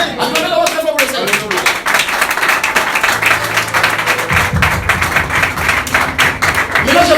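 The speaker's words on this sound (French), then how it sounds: "Acclamez la voix très fort pour le Seigneur" A church congregation claps loudly and cheers for the Lord during a sermon, dense rhythmic applause mixed with raised voices and thumps.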